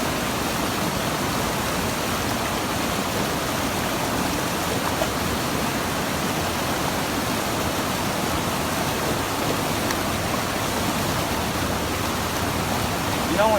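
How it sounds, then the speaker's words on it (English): Gold pan being washed out in stream water while prospecting in New Hampshire, a steady close rushing wash of water with no pauses, continuous and fairly loud throughout. "And then I creep the pan forward until it starts to go out, and then I wash it out like that."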